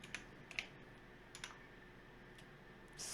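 Keys tapped on a computer keyboard while setting up a Twitch chat command, a few faint, sparse clicks in short bursts against a quiet room hiss.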